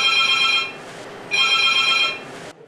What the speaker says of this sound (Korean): 본인이나 가족의 증상이 의심된다는 문의 전화가 잇따라 걸려옵니다.